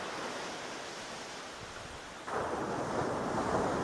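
Ocean surf at Acadia National Park around midday as the tide goes out toward low tide, a steady broad wash mixed with wind noise that swells louder partway through, with no one speaking.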